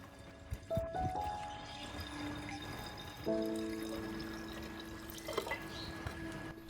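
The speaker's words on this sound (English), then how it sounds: "Pour 500 milliliters of water." Water pours into a jar of chopped aloe vera pieces, a soft wet splashing and trickling heard up close beneath tonal background music, with no one speaking.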